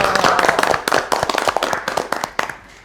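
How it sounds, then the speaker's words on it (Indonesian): A studio audience claps briefly in a talk show, with sharp, loud, close hand claps in a fast irregular burst that thins out toward the end. "Tepuk tangan dulu dong."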